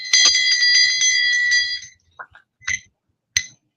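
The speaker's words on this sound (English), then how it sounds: "it is this brass bell." Brass ship's bell decorated with an anchor, rung with a bright ringing tone that sustains for about two seconds, followed by a few short, softer clinks and taps.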